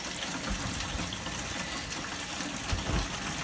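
Shower water pours steadily into a 4-gallon bucket close by, a continuous loud splashing rush with no pauses and no talk.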